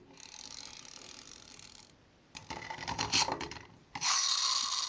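Close mechanical whirring and ratcheting from the pullback motor of a toy Dalek, starting and stopping in bursts, with a louder grinding rush near the end.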